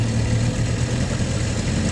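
A 1953 Scott-Atwater antique outboard motor with full forward, neutral and reverse gear shift runs steadily, a dense, loud, even engine drone heard up close without talk.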